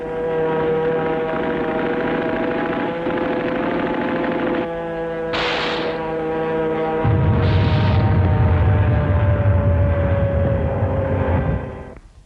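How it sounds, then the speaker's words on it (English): Propeller-driven World War II carrier planes of the US Fifth Fleet droning in flight, a loud steady engine hum with a shift midway and a deeper roar in the second half, fading at the end. "Carrier planes of Admiral Spruance's Fifth Fleet hit the home islands of Japan"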